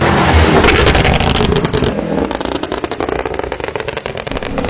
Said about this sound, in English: What you just heard was 682 horsepower of supercharged American V8.